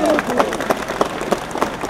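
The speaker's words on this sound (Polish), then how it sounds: "brawa dla was!" Crowd at an independence march rally in Wrocław clapping and cheering, a loud, uneven wash of many hands with rhythmic accents and raised voices mixed in.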